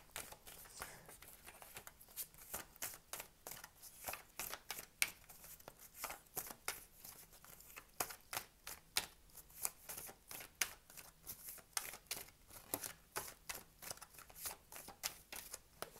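Tarot cards are handled and shuffled up close, making quick, crisp riffles and flicks in a fast irregular stream, fairly quiet, with no talking.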